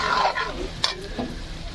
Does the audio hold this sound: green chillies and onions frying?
yes